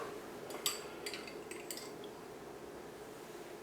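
A spoon works through chocolate cake batter in a bowl, with a few light clinks and scrapes against the bowl in the first two seconds before a quiet background hum.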